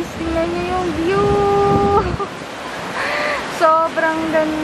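Strong surf on a beach in Bali, a steady roar of crashing waves and wind, with people talking over it throughout.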